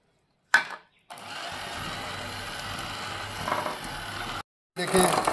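An electric mixer beating butter, sugar and ghee for zeera biscuits, running with a steady mechanical whir for several seconds between short pauses, fairly close and without talk.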